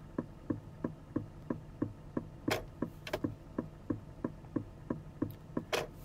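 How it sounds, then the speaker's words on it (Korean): Turn signal on an Aston Martin DBX 707 SUV ticking in a steady, quick rhythm of soft, close clicks, roughly three per second, with a few brief brighter clicks interspersed and no talking. "방향시등 소리가 좀 독특하거든요"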